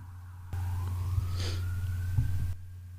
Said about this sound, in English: Oh man, those sirens.